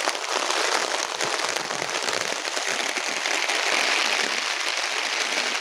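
Heavy rain pours down on a farm hut in the fields, a dense, steady hiss of drops drumming without pause, loud and close, with no voices over it.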